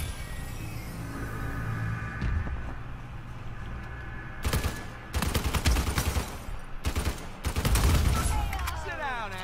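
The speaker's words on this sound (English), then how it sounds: "I was shooting him the whole time" Gunfire rattles in Uncharted 4 multiplayer, with repeated loud bursts of rapid shots in the second half over a steady background of game sound.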